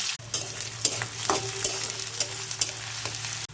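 Chopped onion and garlic sizzle in a hot pan for a curry, a steady frying hiss broken by a few sharp stirring scrapes and clicks, close and fairly loud with no talking.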